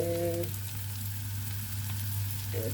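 Onions with black pepper and red chilli sizzle steadily in a pan, a close, continuous frying hiss with faint stirring underneath and a low steady hum throughout.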